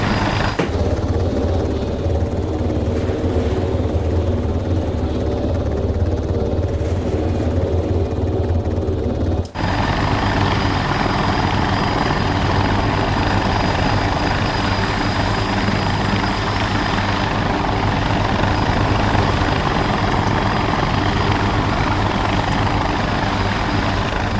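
A video game extraction helicopter hovering and flying, its loud, steady rotor roar and engine drone filling the whole stretch and growing heavier and closer partway through, with no talk.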